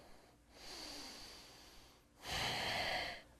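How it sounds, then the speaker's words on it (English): Slow, controlled breathing during a yoga balance session, two long airy breaths, each lasting over a second. The second is louder and fuller than the first, heard close with no talk over it. "One more breath."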